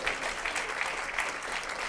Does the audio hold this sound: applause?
yes